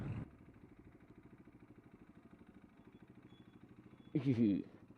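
A motorcycle engine idles with a steady, rhythmic tapping that pulses through the whole stretch, fairly quiet and close, then a brief louder surge near the end.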